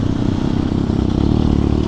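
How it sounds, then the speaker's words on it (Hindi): Engine of a KTM Duke 390 motorcycle while riding, a loud, steady throbbing drone mixed with road and wind rush, no talking heard. "देख लो भाई अभी मैं चला रहा हूँ कातिया का बाइक ड्यूक 390"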